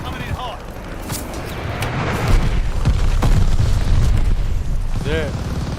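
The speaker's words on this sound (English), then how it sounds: "Heads up, enemy glide bomb coming in hot." An enemy glide bomb blows up in a Call of Duty Modern Warfare II match, a heavy rumbling boom that swells and lingers amid game noise and voices.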